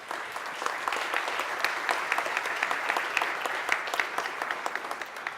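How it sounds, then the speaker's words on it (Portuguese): An audience at the ABA Mídia 2018 conference panel claps together in sustained, dense applause that holds steady for several seconds before easing slightly. "palmas para vocês"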